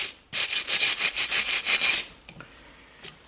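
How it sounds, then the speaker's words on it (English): Wire brush scrubbing rust off the rear brake caliper of a 2018 Honda Accord: about eight rapid, close, loud scraping strokes in a steady rhythm, then a few faint scratches and one brief final stroke. "I also get in there with a wire brush to get all the rust out"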